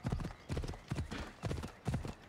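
Horse hooves clip-clop in Assassin's Creed Odyssey, a steady galloping rhythm of four or five quick bursts of hoof strikes, close and clear with no talking.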